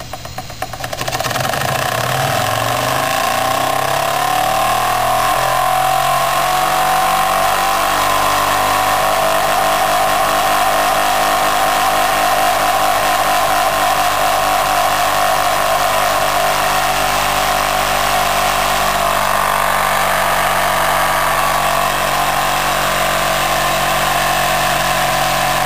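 A Jensen 75 model steam engine fitted with a superheater runs in reverse, its slower direction, with a loud, steady mechanical chuffing hum that rises in speed from a standstill and then holds constant, close and continuous with no talking.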